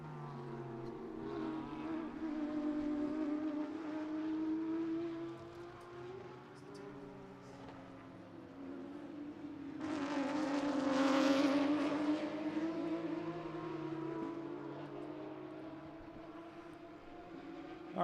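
GT race cars lapping Sebring International Raceway during an endurance race, heard from on board, with a sustained engine drone that rises and falls through gear changes and a louder surge midway.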